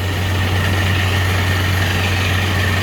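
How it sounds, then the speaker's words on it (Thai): A loud, steady engine idling close by on a Sorock K-Speed 700 18/20 bar air compressor, a constant low hum and rattle with no changes in pitch and no talking. "ตอนนี้เครื่องทำงานอยู่นะฮะ"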